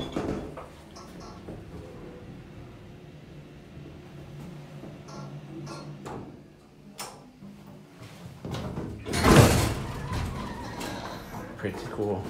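Otis hydraulic elevator doors in an office building in Lowell, Massachusetts, closing and then reversing open, with soft sliding rumbles and clicks and a louder mechanical burst near the end, heard fairly close and without speech.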